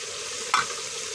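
Biryani ingredients, ground garlic among them, sauté in a pan with a continuous sizzle and one brief scrape of stirring midway.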